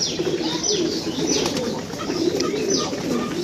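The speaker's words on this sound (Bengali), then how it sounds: "এই দেখেন চিলাটা কীভাবে ডাকতেছে" A chila pigeon coos repeatedly in a pigeon loft, soft rolling calls recurring every second or so over a steady bed of other birds chirping and cooing nearby.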